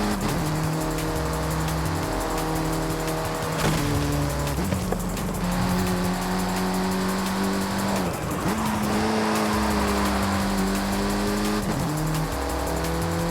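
Racing engines in the street-racing video game Night-Runners drone loudly and steadily, pitch climbing and dropping through gear shifts, with tire squeal mixed in and no talk.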